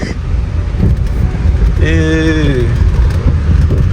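A Range Rover Evoque with an engine misfire drives along, a loud, close rumble of engine and road noise lasting throughout, with a voice speaking briefly midway.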